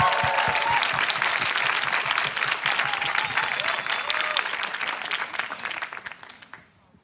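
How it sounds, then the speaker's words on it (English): A live audience at a plant-based panel event gives the moderator and guests a big round of applause, dense clapping with some crowd noise that holds strong, then thins and fades out toward the end. "Please give them a huge round of applause."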